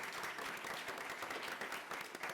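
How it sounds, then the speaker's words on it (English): An audience at a London press conference for the film Pan applauds an actor, with a sustained, even wash of clapping from many people, fairly soft and steady throughout. "please give him a round of applause."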